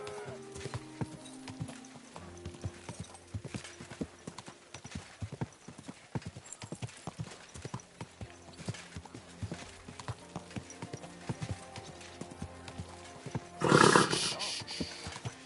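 Horse hooves clip-clop steadily in the medieval game Kingdom Come: Deliverance 2, a regular walking rhythm of sharp knocks under quiet ambience, with a brief louder burst near the end.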